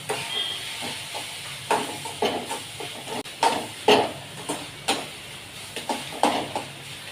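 Maggi noodles are sautéed with egg and vegetables in a pan, giving a constant steamy hiss broken by repeated scraping stirs and soft clatter, close and moderately loud, with no voices.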